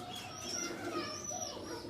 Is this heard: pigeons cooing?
yes